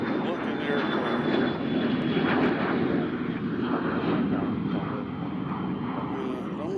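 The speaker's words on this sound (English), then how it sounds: "That is a sleek looking aircraft." Airliner at Nashville International Airport: a loud, steady engine roar dominating throughout, sustained broadband rumble with little change, heard from the field nearby.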